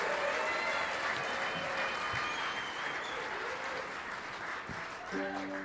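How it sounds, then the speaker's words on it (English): Audience at the Wintergrass bluegrass festival applauding for the band's lead singer, a dense, sustained wash of clapping from a sizable crowd lasting the whole stretch, with a brief instrument tone near the end. "How about a round of applause for our lead singer and songwriter?"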